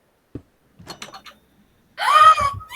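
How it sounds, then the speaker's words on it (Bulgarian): A door opens in the Minecraft video game with a single short, sharp click. Scattered quiet game noises follow, then a louder whining, voice-like sound near the end. "Хайде да отворим вратата."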